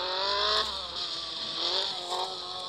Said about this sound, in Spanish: Mira, acaba de derrapar.